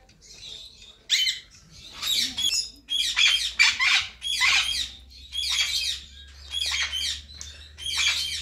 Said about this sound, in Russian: А здесь вот попугаи летают.